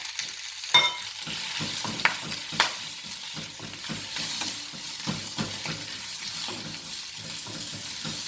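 Collard greens fry and brown in a pan with a soft, steady sizzle, punctuated by a few sharper clicks and pops.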